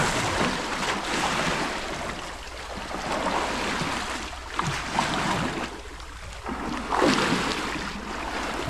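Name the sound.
ocean waves and water around a boat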